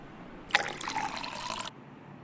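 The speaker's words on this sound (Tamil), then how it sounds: "அதே மிக்ஸி ஜாரில் கொஞ்சமாக தண்ணி சேர்த்து இது கூட சேர்த்துக்கலாம்." A little water is poured into a mixer jar while making green pea kuzhambu: a short, clear gurgling splash starts abruptly, runs about a second, then stops, close and alone.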